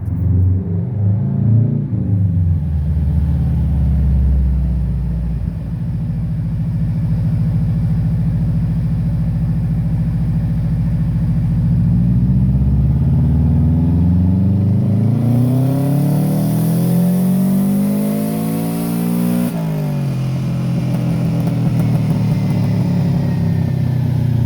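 A turbocharged Subaru Legacy running on a Mustang dyno roars loudly and steadily, rising in pitch through a long, hard pull, then revving up again before easing off.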